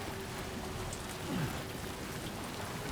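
Steady rain falling on a surface in the video game Death Stranding 2, a dense even hiss throughout with a brief low swoosh near the middle and no speech.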